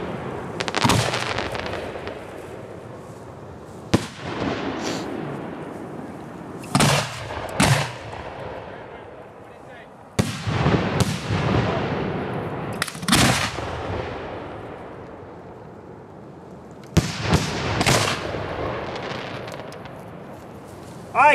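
Professional fireworks shot in a series of loud booming bursts, each followed by a long rumbling, crackling tail, arriving every few seconds with no talk.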